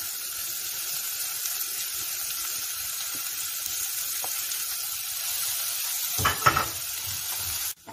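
Onion, bell pepper, small sweet pepper and tomato sautéing together in hot oil in a pan, a steady close hiss and crackle running throughout, with a few louder clatters of stirring near the end.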